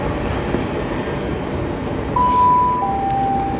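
A train moves through a station on the line toward Oxford, giving a steady low rumble with a sustained tonal whine toward the end, unaccompanied by speech.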